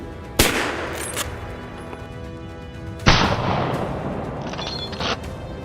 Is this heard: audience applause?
no